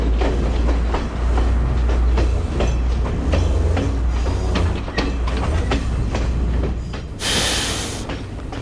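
Sri Lanka Railways train between Kandy and Ella, steady loud rumble and rhythmic clickety-clack of wheels on rail heard from on board, with a burst of hiss near the end.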